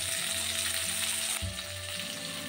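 Cumin and coriander pastes hit hot oil in a pan for a moong dal and pointed gourd dish, giving a steady, close sizzle that briefly flares louder partway through, with no talking.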